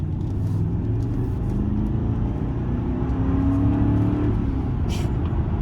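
A 2000 Mercedes-Benz E430 Sport pulls away under acceleration, its V8 a steady, smooth low rumble heard from inside the car, rising gently in pitch with a few faint ticks on top.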